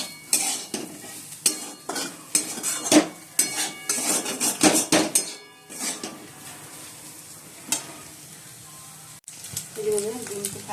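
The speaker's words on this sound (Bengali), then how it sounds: "এই আলু পেঁয়াজ এখন ভাজছি" Potatoes and onions frying in a pan for a home-cooked chow mein dish, with repeated loud scrapes and clanks of a spatula stirring against the metal, then quieter sizzling and a short stretch of voice near the end.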